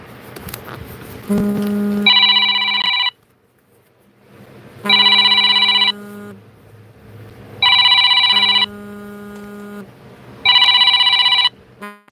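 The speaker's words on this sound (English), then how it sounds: "Got a phone call from Jolene." A telephone rings four times in regular bursts, each a loud electronic ring of about a second separated by short pauses, with faint room noise between rings and no talking.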